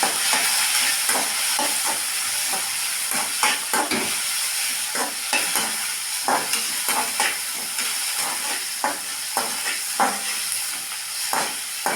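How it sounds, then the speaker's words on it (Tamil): Green chili, curry leaves, tomato, onion and a little coriander fry in a pan, giving a continuous loud hissing sizzle with frequent close scraping and stirring strokes at an uneven rhythm. "ஒரு பச்சை மிளகா, ஒரு கருவேப்பிலைங்க, தக்காளி, வெங்காயங்க, கொஞ்சோண்டு கருவேப்பிலைங்க, கொஞ்சோண்டு கொத்தமல்லி கரைங்க போட்டு வதக்கிடலாங்க"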